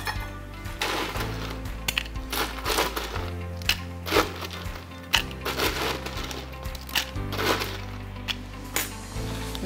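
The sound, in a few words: ice cubes added for a cocktail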